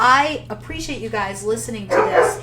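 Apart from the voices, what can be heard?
dog barking in home office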